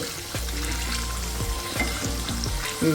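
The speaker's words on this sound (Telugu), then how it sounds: "నిదానంగా వేయించుకోవాలి సిమ్లోనే ఉంచి" Amla, Indian gooseberries, frying slowly on low heat in a pan: a soft, steady sizzle with a few gentle scrapes and knocks of a spoon, close and even, with nothing else over it.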